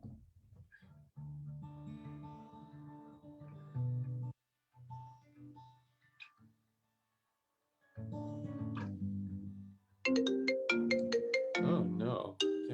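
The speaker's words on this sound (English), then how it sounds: "Sorry, little phone call there." A mobile phone ringtone from an incoming call sounds during an outdoor music session, a melodic tone pattern repeating in bursts with short gaps, brighter and busier toward the end.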